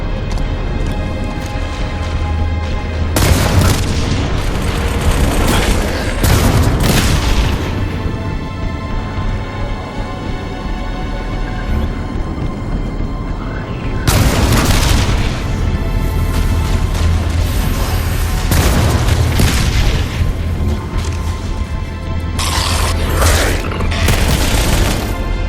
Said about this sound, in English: The pulse generator overloaded.